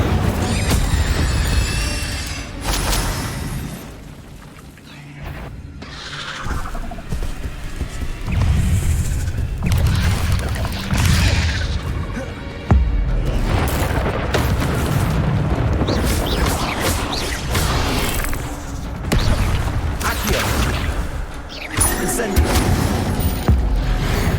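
Fire spell blasts from Incendio in the video game Hogwarts Legacy: repeated deep booms and whooshing eruptions over game music and effects, loud and close, with brief gaps between bursts.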